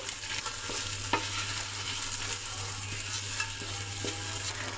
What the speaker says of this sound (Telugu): టమాటాలు చక్కగా వేగాలంటే ఒక టూ మినిట్స్ వరకు అయితే పెట్టుకుందాం